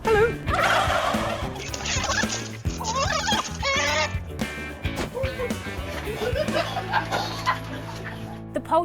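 Farm turkeys gobble loudly and repeatedly in bursts, close and overlapping, with a voice chuckling and talking in between.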